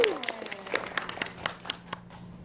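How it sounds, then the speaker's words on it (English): Scattered clapping from a small audience at a fireworks science demonstration as a volunteer comes up front, individual claps distinct and thinning out, with a brief vocal whoop at the start. "Let's give our volunteer a nice round of applause"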